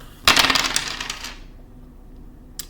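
Dice clatter onto a hard surface for a numerology reading, a brief burst of rattling hits and bounces that quickly settles, then a single small tap near the end.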